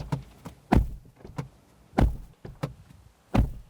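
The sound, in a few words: car door slam of 2025 GWM Haval Jolion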